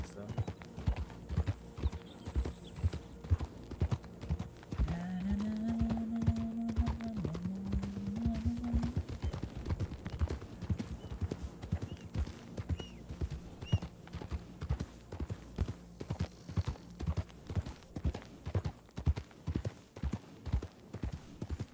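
Steady hoofbeats of horses trotting in Red Dead Redemption (WildRP), a continuous close clip-clop rhythm lasting throughout, with a drawn-out neigh partway through and a background hum.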